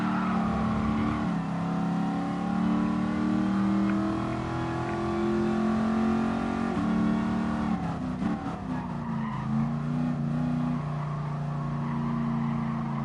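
Race car engine in GT Sport wailing through sustained high revs with shifting pitch, a dip and gear change midway, plus tire skid and squeal, loud and continuous with no talk.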